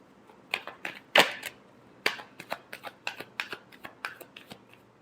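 Tarot cards shuffled by hand, a quick run of crisp riffling and snapping card sounds, close and clear, with no talk.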